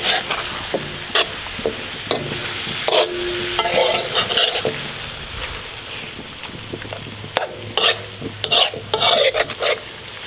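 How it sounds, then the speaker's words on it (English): Chicken for pad see ew sizzles in a hot pan while a utensil stirs and scrapes through it in repeated strokes, close and lively, with brief pauses between mixes. "And give it a mix around."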